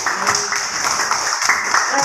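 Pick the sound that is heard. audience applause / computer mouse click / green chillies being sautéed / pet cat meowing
audience applause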